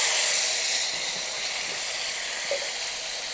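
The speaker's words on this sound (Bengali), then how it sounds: "এখন বাইটে রাখা মশলাগুলো দিয়ে দিব। বাইটে রাখা জিরা মহরি," Cumin and mustard seed spices drop into hot oil for a Bengali banana-flower mochar ghonto, producing a loud, steady sizzling hiss that eases slightly after the first moment and continues evenly, close and without talk.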